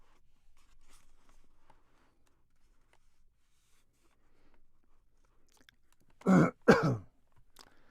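After a long near-silence, a person clears their throat and coughs twice in quick succession, close to the microphone, in two short harsh bursts.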